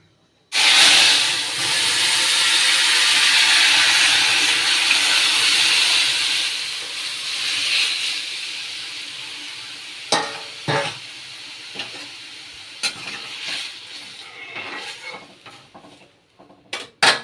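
Dal tipped into hot oil with mustard seeds while cooking at home, bursting into a loud, close hissing sizzle that gradually fades, followed by scattered clinks and stirring noises.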